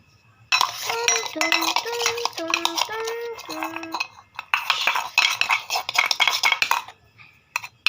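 A child's spoons clatter and clink against toy pots and pans during pretend cooking, a run of close, quick metallic taps and scrapes with brief pauses, trailing off near the end.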